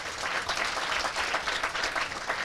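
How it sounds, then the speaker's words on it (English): A large outdoor political rally crowd in Kenya claps steadily and densely, forming a continuous wash of applause with no speech. "Clap for yourselves."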